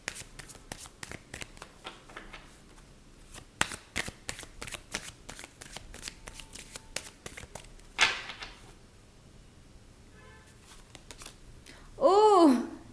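Tarot cards being shuffled and drawn by hand, soft rapid riffling and patter through most of the stretch, with a brief louder flourish near the end and faint voice traces.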